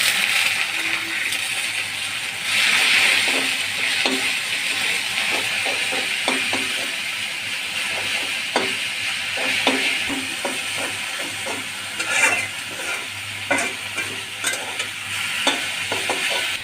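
Jute leaves and salt stir-fried in oil with fried garlic and dried chillies, giving a continuous hissing sizzle broken by repeated clatters and scrapes of stirring.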